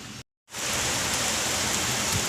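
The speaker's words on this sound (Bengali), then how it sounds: "অনেক প্রতীক্ষার পর বৃষ্টি," Heavy rain pours down on a rainy day in Dumdum, a loud, dense, continuous hiss of drops on surfaces, briefly cut to silence near the start before resuming steadily.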